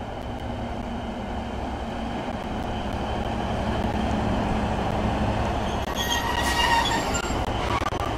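A four-coach passenger train rolls steadily through a station, its continuous rumble and rail noise building slightly, with a brief wheel squeal near the end and no voices.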